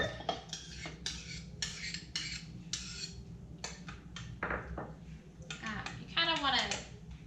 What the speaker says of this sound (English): So you'll mix it separately, and then I'm going to kind of gently stir the rest in.